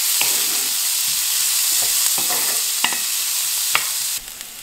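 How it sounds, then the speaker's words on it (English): Onion frying in a Dutch oven as a base for chicken curry sauce, giving a steady broadband sizzle throughout with a few sharp stirring scrapes and clicks over it, close and fairly loud, with no talking. "So I've been frying this for almost 10 minutes."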